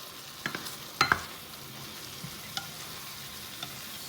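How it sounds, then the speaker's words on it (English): Cow feet and beef stirred in a pot, with a few soft spoon scrapes and knocks around a low simmering hiss, one louder clatter standing out, no voices. "You want to make sure you are stirring it so that it's not burning"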